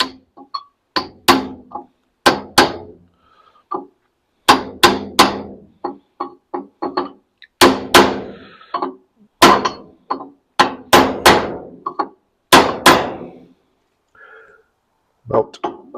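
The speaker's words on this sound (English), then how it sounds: "we take our aluminum and just start tapping it in gently" An aluminum drift taps a wheel bearing race into its housing: sharp, close metallic hammer strikes come in irregular clusters of two to four, with short pauses between them.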